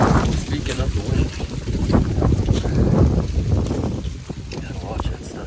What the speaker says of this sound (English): The wind's whipping today.